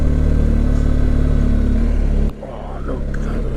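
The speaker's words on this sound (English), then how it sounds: "I love these little roads on this bike" A motorcycle rides along small, narrow country roads near Loch Ness, its engine droning steadily and loudly up close before the sound drops suddenly and settles into a quieter, softer run.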